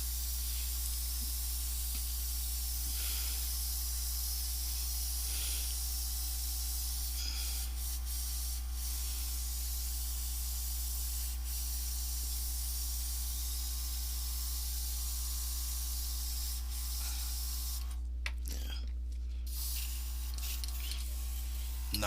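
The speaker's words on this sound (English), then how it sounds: "I'm just spraying this misty crap into the garbage can" A spray bottle mists into a garbage pail in an art studio, giving a soft continuous hiss with a few brief rubbing and handling noises near the end, no voices.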